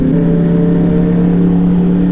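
Steady engine drone with a strong low tone, consistent with a Yamaha R3 motorcycle passing at night on a road, heard from a riding motorcycle, continuous and fairly loud without talk.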